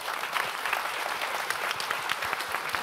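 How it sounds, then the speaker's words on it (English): Conference audience applauding panelists at a Java developer panel, a steady, dense round of clapping from many hands that holds evenly throughout without voices. "Big applause for the panelists."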